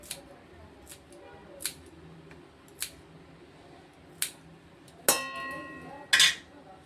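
Coriander leaves snipped with scissors, a series of separate crisp clicks spaced about a second apart, louder cuts near the end, close and clear with no talk.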